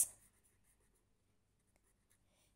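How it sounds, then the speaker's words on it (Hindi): Chalk or marker writing on a board during a physics lesson on Kirchhoff's laws, a sharp initial tap followed by faint, sparse scratching strokes in a quiet room. "इसको हम लिखेंगे किरचॉफ्स"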